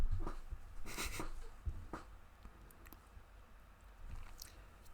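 Quiet, close chewing of a mouthful of food, with soft wet squishes and bites in an irregular rhythm and no voices.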